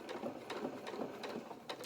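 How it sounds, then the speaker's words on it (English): A sewing machine stitching up the edge of a small pocket flap on a child-sized sailing anorak, running in a steady continuous mechanical whir with slight rhythmic ticks throughout. "then we can sew up this edge"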